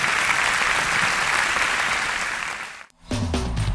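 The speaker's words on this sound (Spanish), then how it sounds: "Da un aplauso al Señor." A church congregation breaks into loud, continuous applause that holds steady, dips into a brief gap near the end, and resumes with clapping under a low sustained tone.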